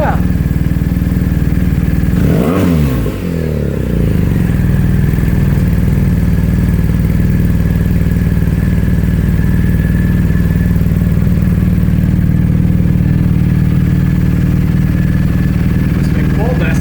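A 2019 BMW R 1250 GS Adventure with an Akrapovic exhaust idles steadily and close up, a deep, even engine rumble that holds throughout, with a brief blip of revs near the start.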